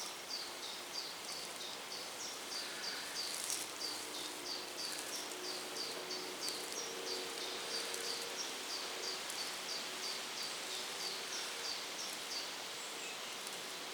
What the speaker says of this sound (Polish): Szumią drzewka, ptaszki śpiewają.